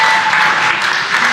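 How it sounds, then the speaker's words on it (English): A brief burst of loud, dense applause from a crowd welcoming home the SpaceX Crew Dragon crew after the Inspiration4 splashdown in the Atlantic Ocean, steady clapping throughout. "You could hear the crowd here, so excited to welcome the crew back home."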